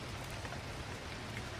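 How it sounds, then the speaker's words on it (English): Steady rain drums against tall windows, a dense, even patter filling the whole moment at moderate loudness, alone with no voices. "the rain beating a relentless percussion against the high windows"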